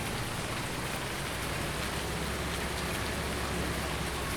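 Rain falls in a farming video game, a steady dense hiss of drops close and even throughout, with no talk.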